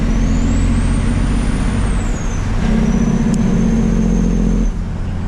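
An 18-speed truck downshifting without the clutch: steady loud engine drone with a rising and falling whine as revs shift, a sharp air-brake hiss partway through, and the engine note changing as gears drop, heard close inside the cab with no talk.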